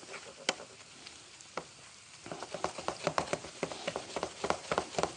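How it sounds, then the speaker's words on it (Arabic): Onion and garlic frying in a pan, a soft hiss at first that turns into busy, close crackling and spitting, with sharp pops and stirring scrapes growing denser toward the end. "شايفين البصله تحمر شويه كويس اهوت تحمر"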